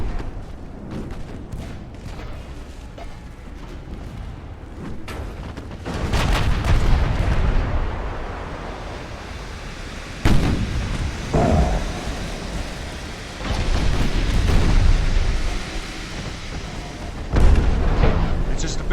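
Warship guns in the naval battle game Ultimate Admiral: Dreadnoughts fire in repeated deep booms that rumble and roll away, several heavy blasts spread over a long stretch of continuous low noise.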